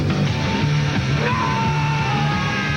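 Loud yelling scream in a Tales from the Crypt movie commercial, sustained and harsh with crowd-like shouting mixed in, filling the whole clip.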